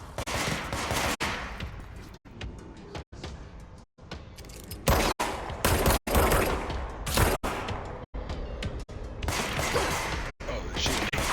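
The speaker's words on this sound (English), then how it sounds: "Oh, they're shooting me." Dense bursts of gunfire in the video game Control, rapid overlapping shots and impacts stacked with brief gaps, loud and close throughout, with voices talking over parts of it.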